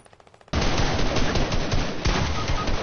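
Sustained, loud rapid-fire gunfire from a Fortnite-style shooter game erupts after a brief quiet start and continues as dense automatic bursts.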